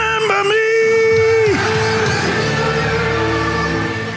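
A church congregation at an evening service screams together in one loud sustained roar that drops off into crowd noise and fades.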